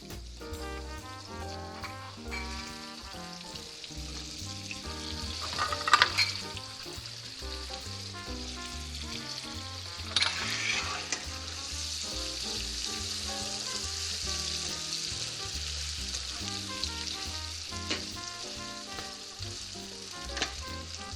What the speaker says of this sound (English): when all of the butter melts, we're going to go ahead and add our apples